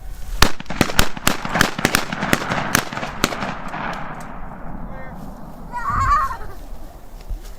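Korean War-era weapons firing on a live firing range outdoors, with a rapid string of loud, sharp gunshots over the first few seconds, then echoing decay and quieter scattered noise afterward.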